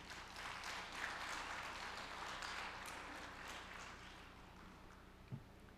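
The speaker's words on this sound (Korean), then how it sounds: "여러분 동의하시면 박수를 쳐주십시오." Applause from the audience at a peace forum lecture, a sustained, even roar of many clapping hands that fades slightly toward the end, heard at some distance in a hall.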